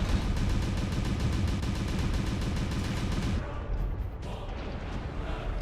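In MechWarrior Online, incoming gunfire strikes a mech in a fast, loud, steady rattle of impacts for about three seconds, then cuts off, leaving quieter battle rumble with a few scattered hits.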